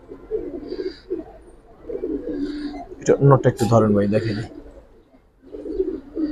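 A pigeon, a male of a fancy or tumbler breed, coos in soft repeated low calls close by while someone talks over and between them.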